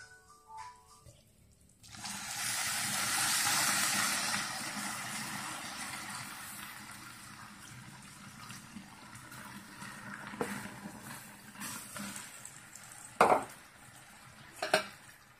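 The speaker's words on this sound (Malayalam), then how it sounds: "പാൽ ഒഴിച്ചു കൊടുക്കാം." Milk pours into a pan for semiya pudding in a rushing liquid stream lasting several seconds, then fades, followed by a few sharp knocks of the pan.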